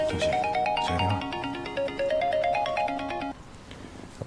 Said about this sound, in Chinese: 苏西，接个电话。